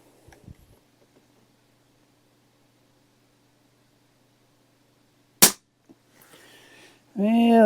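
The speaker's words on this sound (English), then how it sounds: "This is a .22 caliber rifle. We're shooting Crosman Piranha pellets in it." A Crosman 1400 .22 caliber air rifle firing Crosman Piranha pellets gives one sharp, loud crack after several seconds of near silence, preceded by faint handling clicks and followed by soft rustling before a voice starts speaking.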